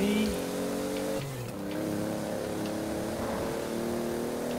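A Toyota Supra engine in Forza Horizon 4 drones and revs steadily at close range, its pitch shifting as it accelerates, with a brief dip partway through.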